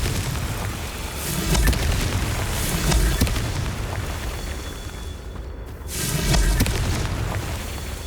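Confringo fire spell blasts in Hogwarts Legacy go off as loud, booming explosions, one after another, with a heavy low rumble and a brief drop to quiet between the bursts.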